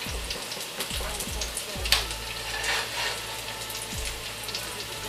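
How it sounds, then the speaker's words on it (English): An egg frying in olive oil in a pan, a loud, dense, continuous crackling sizzle heard close up, with a few soft thumps of the pan. "We just fry an egg."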